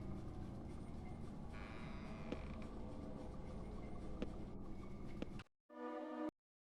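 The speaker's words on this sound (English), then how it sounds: "I hear sounds of machinery coming through the door." Muffled industrial machinery in the Deadly Premonition clock tower heard through a door, a steady creaking, rumbling mechanical drone with faint clanks that cuts out abruptly near the end.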